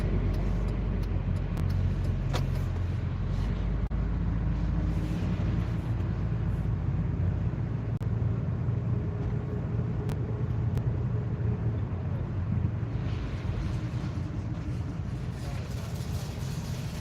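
A car rolls along the road in a steady, muffled cabin rumble that lasts throughout, with faint clicks now and then and no voices.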